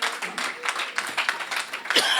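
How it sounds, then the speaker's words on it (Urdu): A church congregation claps loudly and unevenly, a dense wash of many hands close by that continues steadily throughout. "زوردار تالیاں بجائیں"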